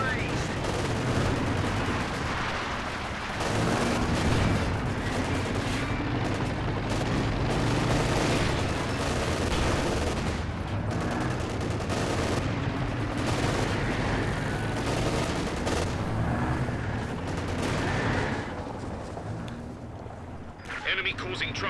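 A machine gun team firing in the World War II strategy game Company of Heroes 2, sustained bursts of gunfire and distant booms in a dense battle soundscape, with a commentator speaking throughout.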